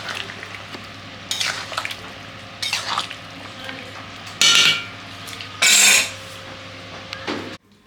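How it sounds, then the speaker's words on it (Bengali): Food with fresh coriander leaves is stirred in a cooking pot, giving bursts of metal spoon scraping and clattering against the pan with short pauses between. A steady low hum sits underneath throughout. "নাড়িয়ে দিই।"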